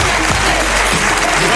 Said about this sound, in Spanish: Vamos a dar un aplauso a su creadora, Denis.